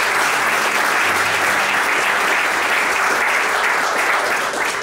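A wedding ceremony crowd applauding continuously, a dense loud clapping that holds steady throughout with faint voices mixed in.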